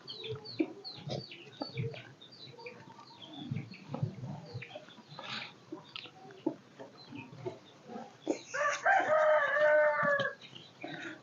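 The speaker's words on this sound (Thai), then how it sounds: "ไก่" Rooster crowing near the end, a drawn-out call rising over a stretch of clucking and other farmyard fowl sounds, with some faint voices.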